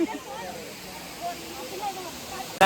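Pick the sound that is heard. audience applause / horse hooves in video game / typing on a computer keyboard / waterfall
waterfall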